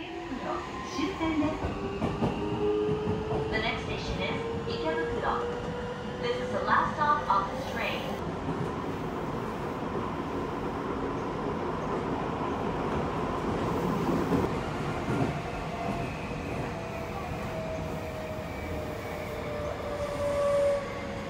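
A Seibu Ikebukuro Line semi-express train runs steadily on the rails, heard from on board, with a continuous rumble, rhythmic clatter and squealing metallic tones, heard up close throughout.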